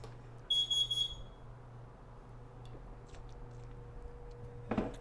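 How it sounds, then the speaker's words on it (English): Smoke alarm giving a short burst of high-pitched electronic chirps near the start, fairly clear indoors, followed by quiet room noise and a brief soft thump near the end. "Smoke alarm beep."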